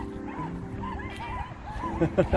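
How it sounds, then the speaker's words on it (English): Several Shih Tzu dogs barking and yipping in a quick, excited run of high-pitched barks, close by, with whimpers mixed in and louder barking near the end. "I wonder what they're barking at."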